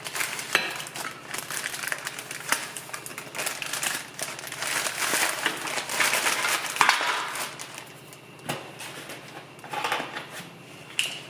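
Metal stove-top drip pans, greasy from use, are slid into a one-gallon plastic Ziploc bag, giving a steady run of crinkling plastic and light metallic clinks and scrapes close by, with no talking.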